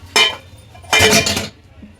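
Metal idli steamer pot and dishes clink and clatter close by in a kitchen during modak preparation, two short bursts of handling with a faint knock at the end.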